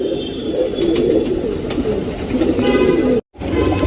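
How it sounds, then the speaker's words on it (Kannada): An HMT breed male tournament pigeon coos close by in a low, throaty, continuous murmur, with faint background noise and a brief dropout near the end. "ಫ್ರೆಂಡ್ಸ್ ಇದು ಹೆಚ್ ಎಮ್ ಟಿ ಗಂಡಿದು"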